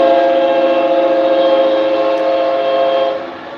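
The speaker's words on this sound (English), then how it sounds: "I love that horn." A Nathan K5LA five-chime train horn blasting loud and close for a sustained chord at night along a railway, holding steady before tapering off at the end, with no voices.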